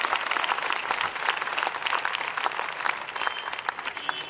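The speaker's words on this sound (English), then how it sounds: "Let's give them a round of applause," Audience applause at a live street event honouring police, a brief burst of many hands clapping fairly close, with scattered crowd noise and no speech over it.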